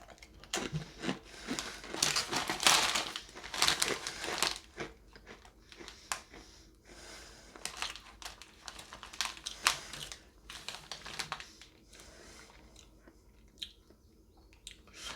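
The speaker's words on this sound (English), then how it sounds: "and a nice crunch like a pretzel" OPTAVIA pretzel sticks crunched and chewed right at the mouth, in irregular crisp bursts that come thick early on and thin out into scattered softer chews, with no voices.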